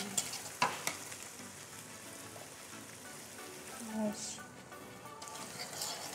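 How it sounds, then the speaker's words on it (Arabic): Quiet, steady frying sizzle in a pan as pasta is tipped onto chicken and stirred, a few sharp clinks and scrapes near the start and some soft movement, with faint talk in the background. "هناخد كل المكرونه بتاعتنا ننزل بيها على الفراخ."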